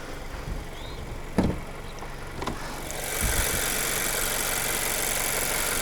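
A 2022 Mazda 3 turbo hatchback's 2.5-liter turbo engine idles with a steady, even hum, a few soft knocks early on, then a broader, louder rush of sound from about halfway that holds to the end, with no talking.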